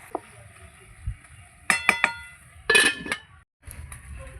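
A lid set onto a cooking pot, a few sharp metallic clinks and clatters close by, with quiet gaps in between.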